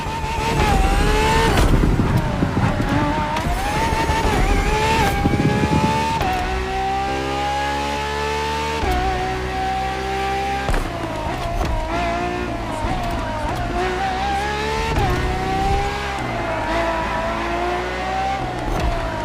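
Ferrari R&D test racing car in the game The Crew Motorfest, its engine loud and near, revving and shifting through gears with rising and falling pitch as it accelerates, heard alone without talk.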